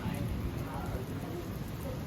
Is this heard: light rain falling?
yes